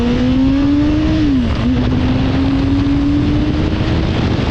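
A Honda CB1000R motorcycle engine holds a loud, steady whine close by, briefly dipping in pitch around mid-clip before climbing again as the revs rise, under constant wind rush and no talk.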